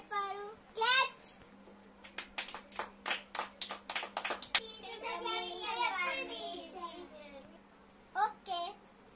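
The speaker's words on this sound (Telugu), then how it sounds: "క్లాప్స్." Schoolchildren in a classroom clapping together in a burst of quick, close claps, mixed with children's voices and chatter before and after.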